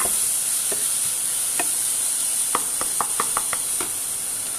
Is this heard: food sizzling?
yes